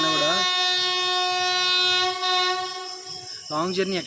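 A long, sustained train horn blares loudly for several seconds, then cuts off as a voice starts talking.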